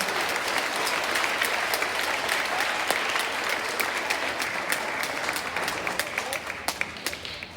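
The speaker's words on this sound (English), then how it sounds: "Please give them a warm clap and welcome them to their leadership" Warm, dense clapping from a school assembly crowd greeting newly elected student executive leaders, sustained and even throughout with a few sharper individual claps standing out near the end.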